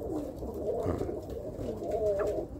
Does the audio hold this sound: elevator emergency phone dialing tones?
no